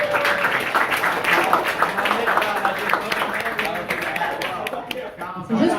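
A room full of people at a 60th birthday party claps in sustained applause, with dense, steady clapping and some voices mixed in.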